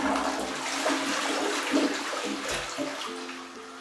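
A toilet flushes on voice command in a smart-home setup, a steady rushing and gurgling of water running for several seconds at close range, with no talk over it.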